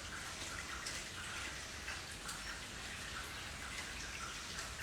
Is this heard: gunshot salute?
no